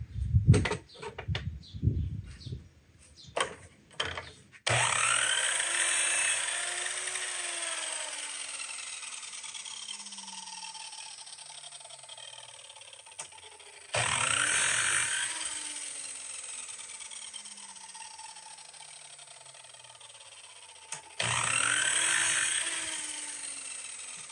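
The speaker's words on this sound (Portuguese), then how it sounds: "eu vou passar a serra a serra na posição de 45 graus e chanfrar a ponta dele" A power saw set at 45 degrees bevels the ends of reclaimed demolition-wood table legs, making three separate loud cutting bursts. Each burst fades into a falling spin-down whine, and a few knocks and handling clatters come first.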